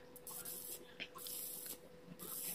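Electric arc welding with a 2.0 mm welding rod gives a faint, crackling hiss that comes in uneven bursts with brief gaps between them.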